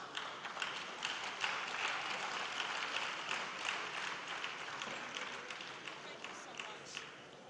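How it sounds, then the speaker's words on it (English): Warm applause from an audience greeting former managing directors of an airport authority at a ceremony, steady dense clapping sustained throughout at moderate distance. "Please, a warm round of applause for them."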